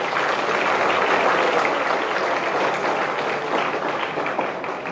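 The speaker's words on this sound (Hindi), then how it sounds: "आप अपने लिए ताली बजाओ जोरदार" Loud, dense applause from an audience of children, sustained and even throughout, with no voices standing out.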